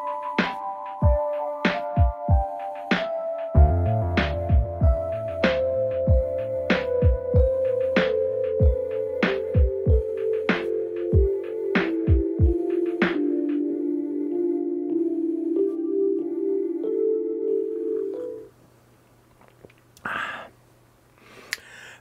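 A 3D printer prints a part, its stepper motors singing in sustained pitched whines that step and glide downward, punctuated by regular sharp clicks, before falling to near quiet with a few soft knocks.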